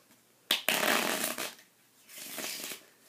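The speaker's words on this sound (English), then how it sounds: "I'll give the cards a shuffle." A deck of cards riffled and bridged: a crisp burst of rapid fluttering snaps, a pause, then a softer second ruffle, close up.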